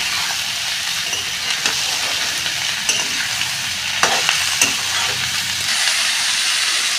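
Onions and chillies with a pinch of salt fry in a pan, giving a steady close sizzle with stirring scrapes and a few sharper clinks of the utensil, and no voices.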